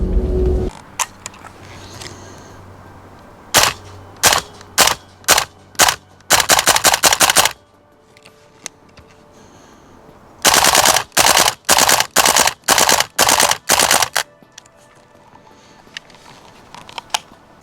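Gas blowback airsoft rifle firing two loud bursts of sharp, rapid cracks, first a few spaced single shots then fast strings, with quiet gaps between.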